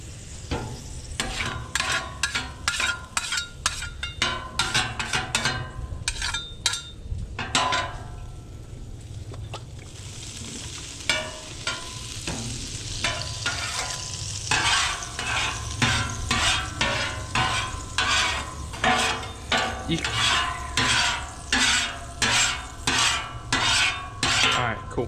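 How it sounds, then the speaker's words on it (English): A metal spatula scrapes across a Blackstone flat-top griddle during cleaning, with repeated sharp, close scraping strokes in a steady rhythm over a faint sizzling background for about twenty-five seconds. "Now, I'm gonna take and hit my"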